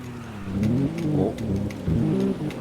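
A Maserati MC20's engine revs hard and surges in two long pulls as too much gas is given while drifting, tires spinning, close and loud.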